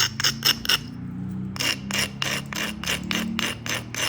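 A flintknapper bevels the edge of a Coastal Plains chert flake with a series of short, rhythmic rasping strokes, stone scraping on stone close by. A brief pause falls before the strokes resume at a quicker pace.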